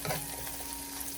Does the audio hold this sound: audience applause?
no